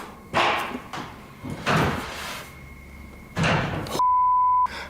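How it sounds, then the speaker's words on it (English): A door at the Stanley Hotel bangs shut in a dark, quiet room, with several dull thumps and a slam followed by a short electronic beep. "I just had a door close on me."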